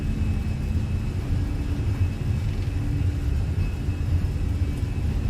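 Airbus A320 engines spooling at takeoff thrust on a runway in Microsoft Flight Simulator, a steady loud low rumble with a constant whine held throughout, no talk over it.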